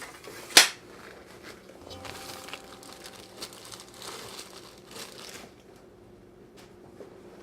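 A plastic zipper bag of tortillas is pulled open with one sharp snap near the start, then crinkles and rustles softly as the tortillas are handled in a kitchen.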